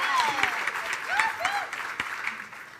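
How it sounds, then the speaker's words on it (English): Audience applause at an annual celebration gala for the evening's MCs, a short burst of dense clapping with faint voices and a whistle-like tone mixed in, fading after a few seconds. "Please give them a quick round of applause."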